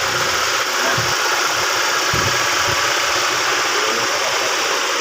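A car engine idles steadily and loudly after an electronic fuel pump repair, its rough mid-pitched rumble continuous throughout with a faint knocking pulse.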